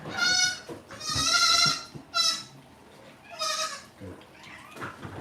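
A goat on a farm bleats several times, with loud, wavering cries close by and short pauses between them, while people talk quietly in the background.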